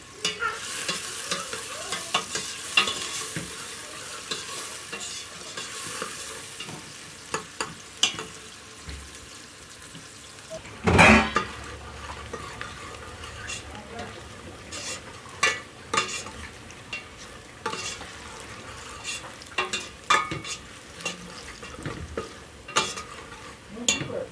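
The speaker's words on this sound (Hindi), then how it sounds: "प्याज को हल्का सुनहरा करेंगे।" Onions sizzle and crackle in hot ghee while a spoon repeatedly scrapes and stirs them toward light golden, with one louder clatter midway; close, no talking.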